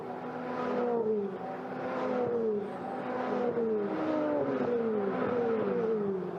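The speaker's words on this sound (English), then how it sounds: "The sound of these 408 Challenge Evo cars is magnificent." Ferrari 488 Challenge Evo race cars at the Imola circuit scream past one after another, repeated rising and falling engine whines sweeping by at a steady rhythm, moderately distant, no talking.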